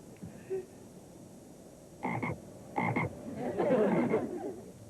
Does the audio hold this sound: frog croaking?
yes